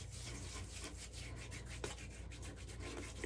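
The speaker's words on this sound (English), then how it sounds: "It says to rub in for 1 minute." Shaving product, likely a balm-like cream, rubbed into the face by hand during a wet shave: a steady, close, soft rubbing and swishing that runs continuously, with no talk.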